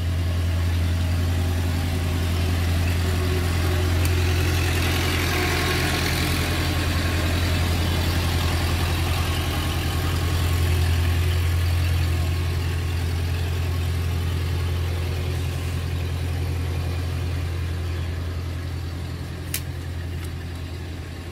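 A boat engine drones steadily on a river in the Mekong Delta region of southern Vietnam, a loud continuous low hum that swells slightly and fades toward the end, with no talking.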